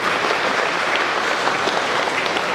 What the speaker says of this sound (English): So a round of applause to Papa Bishop.